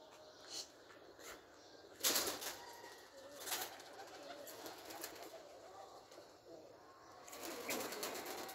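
Soft pigeon cooing on a rooftop with occasional bursts of wing flapping, set against faint outdoor background noise.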